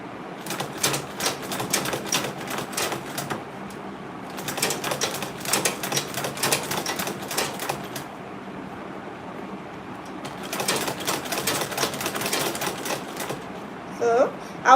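A sewing machine stitches a fabric Ankara tote bag, starting with a back stitch, in loud rapid mechanical bursts separated by short pauses, with a brief speaking voice near the end.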